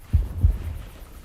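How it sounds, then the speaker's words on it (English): Heartbeat proximity cue in Sea of Thieves, two deep thumping pulses in quick succession followed by a faint low hum, close and muffled. "As the heartbeats get louder"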